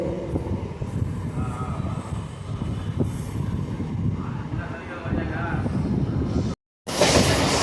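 A suburban train rolls past Avadi railway station near Chennai. Its steady, loud rumble of wheels on rails carries through, with a faint squeal, before a brief cut and a harsh burst of noise at the end.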